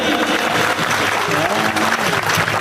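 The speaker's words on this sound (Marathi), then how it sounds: "या पाहत्या वाजवा टाळ्या स्वतःसाठी." An audience claps loudly and steadily for itself during a Marathi motivational talk, with dense continuous applause filling the hall throughout.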